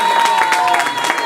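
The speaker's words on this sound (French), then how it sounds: "Du coup, on applaudit pour les deux," Wedding guests applauding at an evening reception, a loud wash of clapping with voices and a tonal hum beneath, brief and close.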